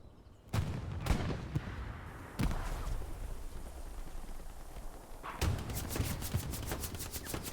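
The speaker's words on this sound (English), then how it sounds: "Trying to throw out grenades." Grenade explosions and gunfire in a video game battle: several heavy thudding blasts with rumbling tails, ending in a rapid burst of evenly spaced gunshots.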